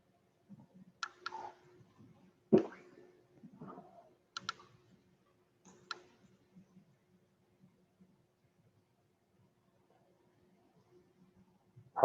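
A computer mouse clicks in the Onshape CAD program, scattered soft clicks and faint taps with gaps of quiet between them, close and low in level.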